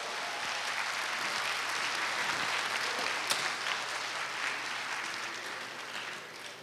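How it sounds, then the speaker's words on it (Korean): An audience at a university alumni choral festival gives a choir sustained, dense applause as it leaves the stage, a continuous wash of clapping from a large hall crowd at steady volume. "떠나는 발걸음 여러분 다시 한번 힘찬 박수로"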